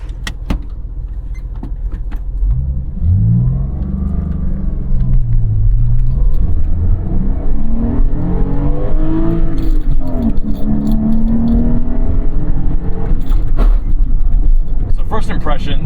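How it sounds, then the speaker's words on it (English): A Porsche 911 Carrera 4 Cabriolet (996.1) flat-six engine drives along, its low rumble rising and falling through the gears, loud and close from inside the cabin, with a voice talking over it. "The engine sounds, it's the traditional flat six howl that you know and love from all Porsche 911s."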